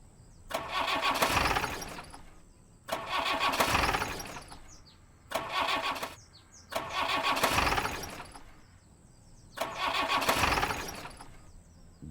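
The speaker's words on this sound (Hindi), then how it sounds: "गाड़ी स्टार्ट नहीं हो रही है।" A car engine cranks and fails to start, with five separate whirring starter bursts of about two seconds each, separated by short silences and never catching into an idle.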